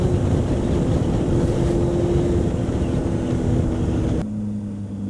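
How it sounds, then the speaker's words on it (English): A tractor engine drones steadily and close by, a low rumbling hum with wind noise, before the sound suddenly drops and quiets near the end. "It's just a tractor."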